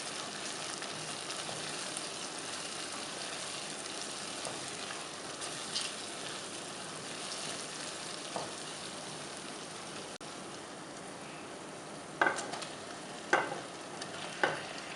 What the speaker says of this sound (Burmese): အယောင်တင်မုတ်လေးထည့်ပြီးတော့မှမှွေကြော်မယ်